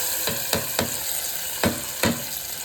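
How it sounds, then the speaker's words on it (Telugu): Mustard seeds, garlic and onion fry in hot oil, giving a steady close sizzle with five sharp stirring scrapes spaced irregularly through it. "ఆయిల్ కాయినాక ఆవాలు వేసుకొని దాని తర్వాత తెల్లగడ్డ, ఎర్రగడ్డ వేసుకొని ఇట్లా మంచి వేగినాక"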